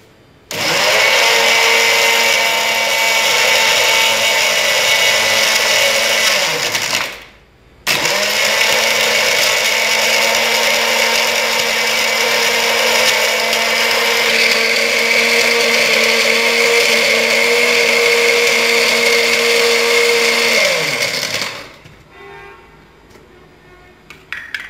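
A blender grinds ice cubes and mint for a margarita, a loud close whirring run that cuts off briefly, restarts at once and keeps grinding steadily before stopping, with no talking.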